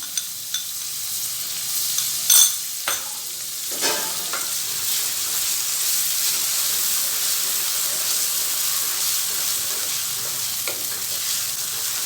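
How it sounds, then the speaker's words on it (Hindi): Steady crackling sizzle of chopped onions frying in hot oil, with a few sharper pops early on and a constant hiss throughout, close and alone. "ऑयल गरम करने के बाद इसमें हम प्याज ऐड करेंगे चॉप्ड।"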